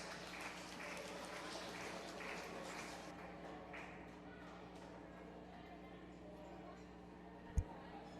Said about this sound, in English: Let's give those 2 young ladies a big round of applause.